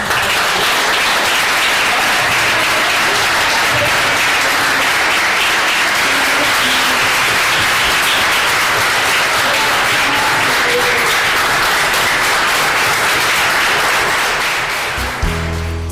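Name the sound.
applause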